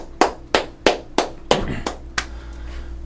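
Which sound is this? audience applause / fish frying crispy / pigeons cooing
audience applause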